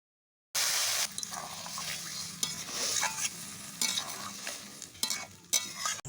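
Okra being stirred and sautéed with spices and a little water in a pan for a bhindi dish, a steady close sizzle broken by repeated scraping strokes of the spoon, with no talking.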